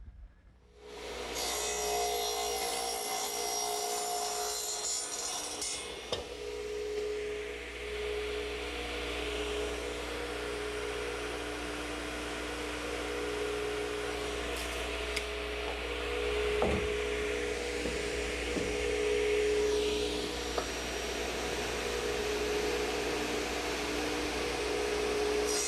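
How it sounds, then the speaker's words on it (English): A radial arm saw cutting 2x4 lumber, its motor starting with a loud whine and running as a steady, sustained drone, with the blade's tone shifting a few times as it passes through the wood. "to the radial arm setup, I want to cut 3 pieces of 2x4"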